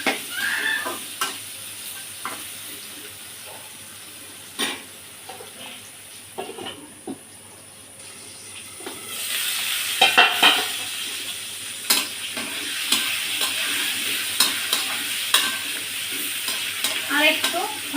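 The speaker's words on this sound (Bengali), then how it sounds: "এটা আমি একটু ভাজা ভাজা করে নেব।" Potatoes and pointed gourd frying in a pan with salt and turmeric, a soft steady sizzle broken by sharp scraping clicks of a spatula stirring, louder and busier in the second half.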